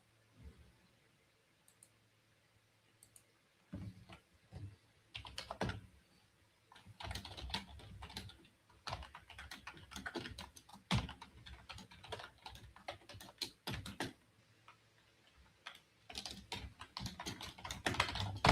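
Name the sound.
typing on a computer keyboard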